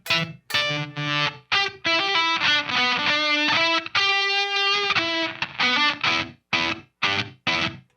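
An electric guitar through a Seeker Effects Lineage Zonk vintage fuzz pedal plays choppy, gated attacks: distorted notes cut off abruptly and return in stuttering bursts, loud and close, with no voice.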